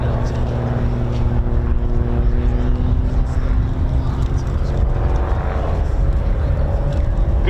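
A Grob Tutor propeller aircraft flies an aerobatic stall turn at an RAF Cosford air show, its engine droning steadily at a distance with shifting pitch, over a continuous commentary voice.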